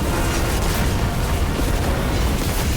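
Rumbling in-game explosions from the shooter Destiny roar continuously and loudly throughout, a dense, sustained barrage with no clear gaps between blasts.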